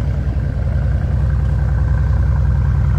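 A Mercedes-AMG car engine idles nearby, a steady, deep rumbling drone with an even low pulse that holds constant throughout, with no voices over it.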